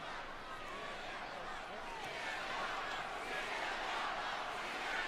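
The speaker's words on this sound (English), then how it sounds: "Crowd trying to rally against Punk" A wrestling arena crowd at Elimination Chamber rallies in a loud sustained roar of cheering and chanting, carrying on steadily with a commentator talking over it.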